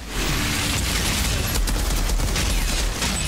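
Gunfire in the video game Outriders, a loud, dense and continuous barrage of shots with heavy low rumble that fills the whole stretch without pause; no talking.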